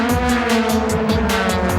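A Yellow Hat Supra race car in 2004 JGTC racing, powering down the final straight with a loud, steady engine roar and a pulsing, rising rev note, continuous throughout with no talk.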